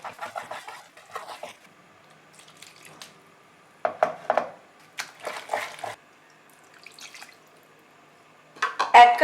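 Milk poured in small additions into malpua batter being mixed in a bowl, heard as soft, intermittent drips, splashes and wet stirring bursts separated by quiet pauses, close and alone.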